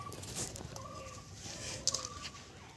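Desi chickens cluck and murmur inside a farm coop, a few soft bird calls rising over a quiet background with occasional faint knocks.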